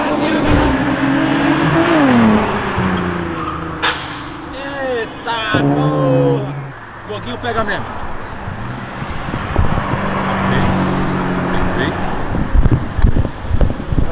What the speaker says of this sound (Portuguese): bora curtir os carros acelerando